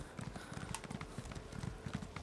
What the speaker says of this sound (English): But I got a horse, so it'll be fine.